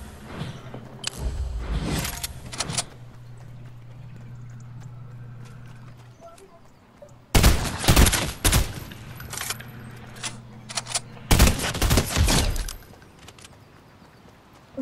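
Fortnite gameplay gunfire: bursts of sharp, broadband shots in clusters near the start, middle and end, loud and close, with quieter stretches of game ambience between them.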